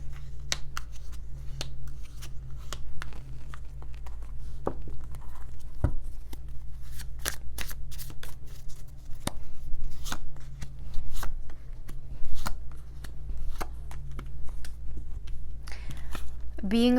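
Tarot cards are shuffled and pulled, giving a long run of crisp riffling clicks and snaps over a low steady hum, with a few louder flicks throughout.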